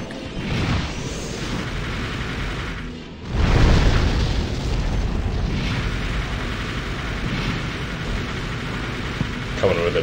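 Grenade launcher explosions in a video game free-for-all match, a deep booming blast landing heavily after a brief lull, followed by a rumbling roar and scattered smaller bursts, loud and close, with voices talking over it at times.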